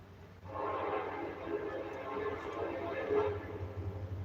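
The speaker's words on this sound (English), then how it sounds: "Train coming." An approaching train gives a broad, steady rumble that swells in and holds at a moderate level.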